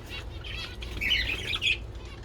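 Pet birds including zebra finches chirp and squawk in small bursts over steady low background noise, with a couple of brighter calls standing out near the middle and no talking.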